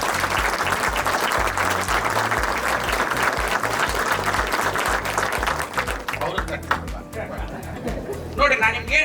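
Sustained applause from a live audience, dense and steady for several seconds before thinning out into scattered claps near the end, with voices mixed in beneath.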